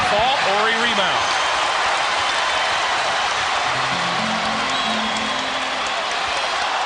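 Basketball arena crowd at a 1996–97 NBA playoff game between the Los Angeles Lakers and Utah Jazz, a steady loud roar of cheering and noise with a commentator talking over it throughout.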